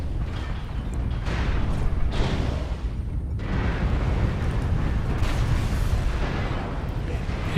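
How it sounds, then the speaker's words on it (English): Airstrike in the mech combat game Mechwarrior Online, a sustained rumble of booming explosions and blasts rolling continuously, loud and dense, with a brief dip before the bombardment swells again. "Airstrike."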